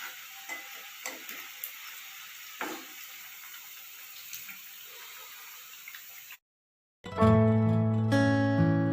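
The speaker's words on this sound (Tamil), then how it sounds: "நல்லா ஃப்ரை ஆகிடுச்சு" Raw plantain slices frying in oil give a faint, steady crackle with scattered pops for about six seconds, then a brief silence before music starts.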